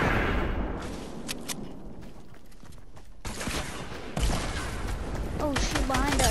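In an online shooter game, rapid bursts of gunfire crackle steadily under a muffled mix, with a short quieter gap and players talking over the shooting.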